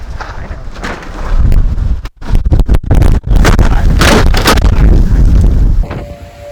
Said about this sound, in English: Yeah, it's really windy, kids.